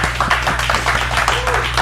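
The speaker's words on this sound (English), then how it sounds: "So give a round of applause to yourself for showing up today." A short burst of applause from a gathered audience, many hands clapping in a quick, irregular patter at close range with no speech over it.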